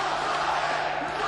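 A boxing crowd roars in support of their fighter, a steady, loud wall of cheering that fills the arena without pause, with commentary talk likely running underneath.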